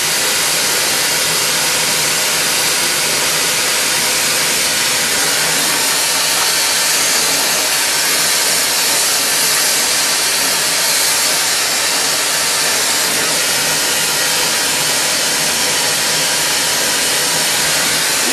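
A glassworking torch flame roars as a steady, loud broadband hiss, heating a glass goblet turning on a lathe while its foot is being shaped; the rushing sound holds constant throughout without talk.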